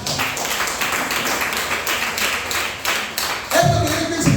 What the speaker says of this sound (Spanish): Da un aplauso al Señor en esta.